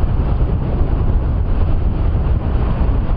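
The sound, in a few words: strong wind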